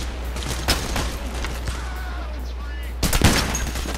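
Rapid gunfire bursts from a heist shooter game, PAYDAY The Heist, crackle over a steady low game drone, with a louder burst near the end.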